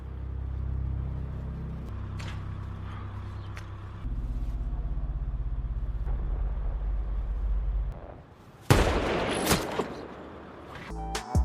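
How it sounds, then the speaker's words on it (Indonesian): A gunshot in a sniper war film rings out as one sudden, loud, sharp report with a crackling tail, following low rumbling ambience and lingering, fading noise. "Dengan suara tembakan itu"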